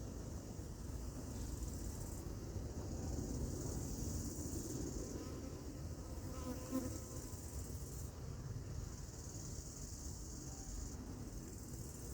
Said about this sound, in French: je vois les abeilles qui sortent très bien de la bouteille, de la deuxième bouteille horizontale